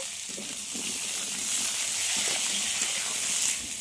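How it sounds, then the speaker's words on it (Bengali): Cut potatoes fry in a pan of oil with black cumin, giving a steady, fairly close hiss and sizzle with faint stirring scrapes and no talking. "আলুগুলো একটু লাল লাল করে ভেজে নেব।"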